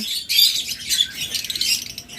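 Pet birds such as lovebirds, cockatiels and budgerigars chirp steadily in a cage, a dense overlapping chatter of high, bright tweets with no talking.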